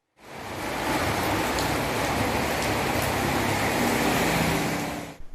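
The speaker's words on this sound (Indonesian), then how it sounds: "Hujan deras mengguyur wilayah Kabupaten Ogan Ilir pada Jumat sore." Heavy rain pours down across Ogan Ilir Regency on a Friday afternoon, a dense, unbroken hiss that stays loud and even from start to finish with no voices.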